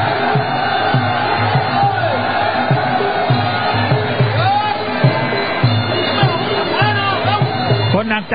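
A Muay Thai stadium crowd boos and shouts at a live fight, a dense, loud, continuous roar of voices under a commentator talking excitedly.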